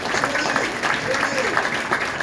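An audience at a dedication event for the Harris B. McDowell III Transportation Center in Claymont, Delaware, claps steadily for a couple of seconds, a dense even patter of many hands at moderate loudness.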